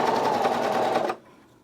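A serger runs steadily over the elastic in a t-shirt shoulder seam, a dense mechanical whir that stops abruptly after about a second, leaving near silence.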